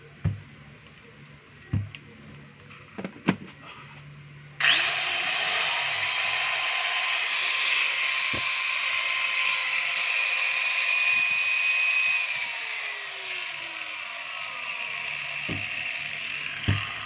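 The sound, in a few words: Black and Decker KG15 4-inch angle grinder running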